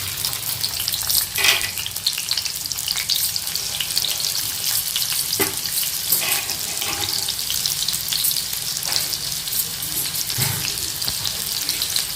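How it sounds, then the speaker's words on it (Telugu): Onion pieces fry in hot oil for a crab curry, giving a continuous close, loud sizzling hiss with a few faint clinks and scrapes and no voices. "ఆయిల్ పోసాను. ఉల్లిపాయ ముక్కలు వేస్తున్నాను."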